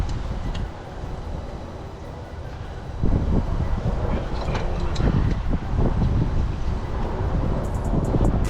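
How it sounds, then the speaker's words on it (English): Strong outdoor wind buffets the microphone as a steady, rough rumble with gusty swells, growing louder after a few seconds, during a pressure washer oil change. "The wind is blowing so bad right now."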